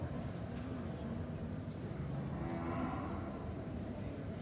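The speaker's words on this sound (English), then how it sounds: "some really great cattle in here" Brahman cattle at a cattle show moo in a low, drawn-out way. The calls sit faintly in a constant hum of crowd and hall noise.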